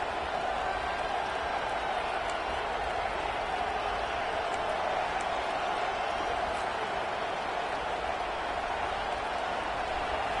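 Stadium crowd at a college football game between Oregon and Oklahoma, a steady loud roar of cheering with no letup, with a voice talking over it.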